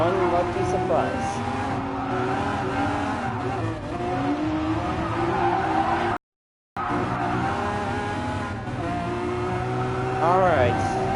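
A Lamborghini Aventador LP 700-4 races in Gran Turismo Sport, its engine whining and shifting continuously with tire squeals and other cars around, while a voice comments over it and the sound cuts out briefly midway.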